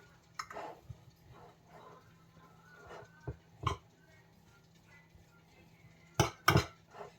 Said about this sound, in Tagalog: I-mix lang natin ng mabuti.